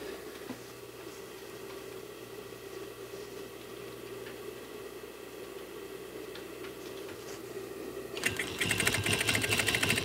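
A sewing machine stitches welt into a seat cushion cover, a steady close mechanical hum with faint ticking that shifts into a faster, louder run of stitching near the end, with no talk.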